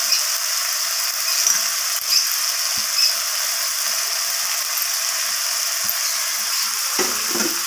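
Chopped coriander leaves stir-fried in a pan: a steady, close sizzle of hot oil throughout, with occasional soft scrapes and taps of the spatula against the pan.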